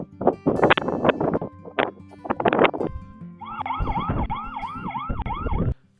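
Several loud bursts of electronic noise give way to a piercing siren wailing up and down in a rapid repeating cycle, then it cuts off, from an Anran C3 Pro solar wireless security camera's built-in siren.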